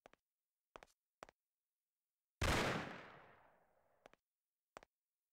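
Gunshots in the game Mafia: a few sharp isolated cracks, then one loud blast with a long fading echo, followed by more single spaced shots in near silence.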